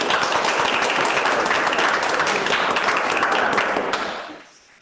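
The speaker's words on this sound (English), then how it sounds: "Just give one more round of applause for the previous." A university symposium audience claps in a dense, steady round of applause that holds for several seconds and then trails off.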